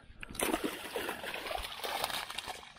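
A two-pound bass is released back into lake water after being caught on a helicopter lure, giving soft close splashes and sloshing with light trickling, fairly quiet and without speech.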